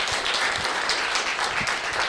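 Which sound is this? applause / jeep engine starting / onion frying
applause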